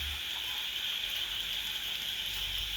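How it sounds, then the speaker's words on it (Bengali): Steady night monsoon rain falling in India, a constant soft hiss with no distinct drops or voices, even and moderately distant throughout. "সারা রাত, সারাদিন, সারা রাত ধরে বৃষ্টি হচ্ছে"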